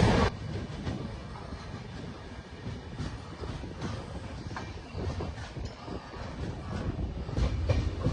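Madurai Kacheguda SF express train running, a continuous rumble with rhythmic wheel clatter and occasional sharper knocks from the rails, heard from inside the moving train with no talk.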